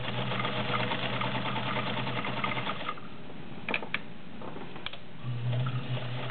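A serviced vintage Kenmore 1303 zigzag sewing machine with a size 16 needle stitches through five layers of denim, its motor humming steadily under a fast, even ticking rhythm that slows and pauses briefly before starting up again close by.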